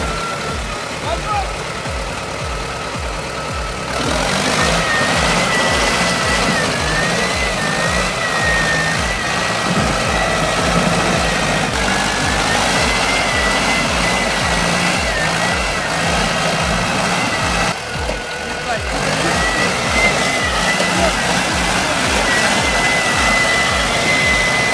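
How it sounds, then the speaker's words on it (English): A tractor engine roars steadily as the machine pushes through ice, mud and freezing water, with a loud, continuous drone, a brief dip near the start and another near the end, and voices audible over it. "A real tractor operator pushing through ice, mud, and freezing water. Engine roaring, wheels fighting for grip."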